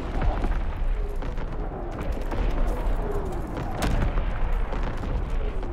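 Distant artillery battery fire in a Roblox Call of Duty game, a steady rumbling barrage of booms with a sharper blast near the end, continuous and dense without speech.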